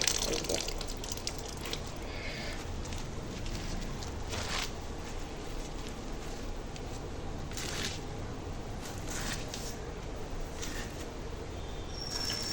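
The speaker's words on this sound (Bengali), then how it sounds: "এই চুবড়িতে দিয়ে গামলার মধ্যে বসে রেখেছি এই জন্যই টপ টপ করে জল ঝরছে" Water draining from freshly washed greens in a wicker basket set over a basin, a quiet steady trickle with scattered soft drips, close and faint, with no voices.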